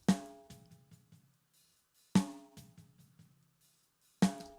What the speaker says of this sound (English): So what I've got here is a snare drum.